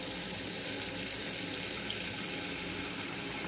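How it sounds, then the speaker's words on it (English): Tap water running steadily into the pot of a Presto electric pressure canner, a continuous hiss and splash with no talking. "So we need to fill water to that level."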